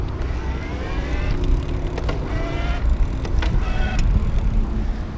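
A Bosch e-bike drive motor on a CUBE Touring Hybrid Pro 500 running in turbo mode, a steady close whine with faint rising tones and light chain clicks over a low rumble, with no voices.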